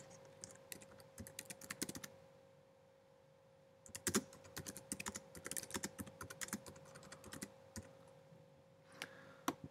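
Someone types on a computer keyboard, quick irregular runs of crisp key clicks in short bursts with a pause near the start, recorded close and fairly quiet over a faint steady hum.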